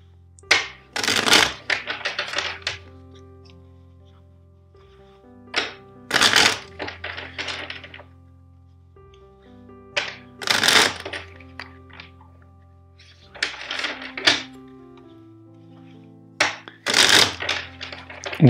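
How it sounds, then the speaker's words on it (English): A tarot card deck is shuffled by hand in four separate bursts, each a crisp riffling flurry of card slaps lasting a couple of seconds, close and fairly loud with quiet pauses between. "I will shuffle the deck four times."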